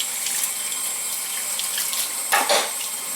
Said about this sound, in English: you want to wash off everything with warm soapy water